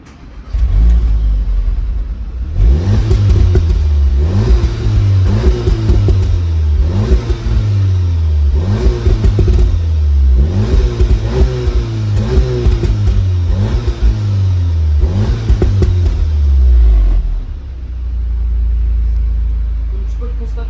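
An Audi SQ2 engine revs repeatedly in loud, rhythmic bursts close by behind the car, a deep exhaust rumble with slight pops rising and falling before settling back to idle.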